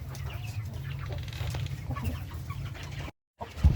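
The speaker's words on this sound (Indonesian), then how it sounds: "Ini ayam kampung biasa" Native village chickens in a semi free-range pen cluck quietly under steady farmyard ambience, with faint wing flaps. The sound cuts out briefly near the end, then a thump follows.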